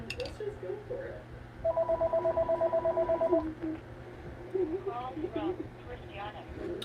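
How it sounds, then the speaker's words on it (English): A telephone rings in a rapid electronic trill for under two seconds, fairly close, with soft talk and room sounds around it. "Hear the phone ringing, maybe."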